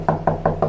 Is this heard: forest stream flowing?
no